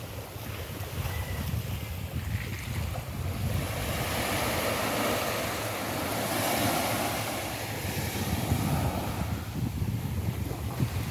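Calm sea on the coast of Bicol, with a low steady wash of water and wind buffeting the microphone, a continuous broadband rush with no voices.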